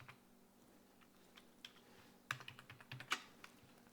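Scattered keystrokes on a computer keyboard, soft at first and then a brief faster run of clicks, close and fairly quiet.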